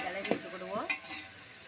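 Tomatoes and onions frying together for tomato biryani, with a quiet continuous sizzle and a couple of brief spoon scrapes close by.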